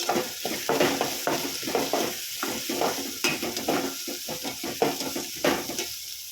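Onions frying in a pan for shavige bath, softening and starting to colour, with a continuous close sizzle broken by frequent rhythmic scrapes and stirring clatter of a utensil, no voices.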